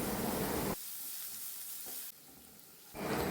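Sliced onions frying in a pan for Kerala-style rava upma give a loud, dense sizzle that drops away abruptly twice as they are stirred, then surges back near the end.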